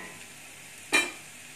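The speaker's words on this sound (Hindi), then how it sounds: "अदरक लहसुन को थोड़ा सा फ्राई करेंगे ताकि वो जो अदरक लहसुन का कच्चा स्मेल चला जाए" Ginger and garlic frying in a cooking pan give one brief, sharp burst of sizzle over a quiet kitchen background.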